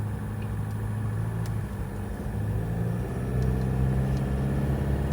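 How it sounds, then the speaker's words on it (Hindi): Car driving in unusually heavy road traffic, a steady low engine and road rumble from inside the vehicle, continuous and moderately loud with no talking. "अनयूजुअल हैवी ट्रैफिक भाई"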